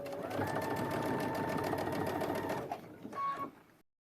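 A sewing machine back stitches over elastic on a fabric face mask. A steady, close motor whir runs for a few seconds, pauses, then gives a short final burst of stitching.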